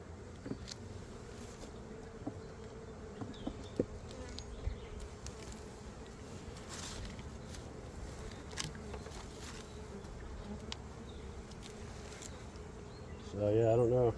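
Honeybees buzzing loudly and continuously around an open hive being inspected after a laying worker problem, a dense close drone with scattered light knocks and a brief voice at the end.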